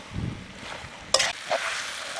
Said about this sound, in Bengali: আলুটা দিয়ে আর একটু কষিয়ে নিয়ে আমরা এর মধ্যে জল এড করব।